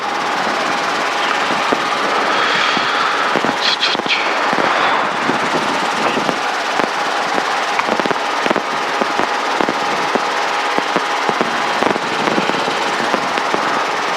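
A helicopter flies training maneuvers including low rotor RPM and autorotation practice, giving a steady, loud, close rotor and engine roar with rapid chopping pulses throughout.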